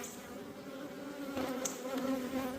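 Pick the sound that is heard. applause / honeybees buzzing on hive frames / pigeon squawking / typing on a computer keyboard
honeybees buzzing on hive frames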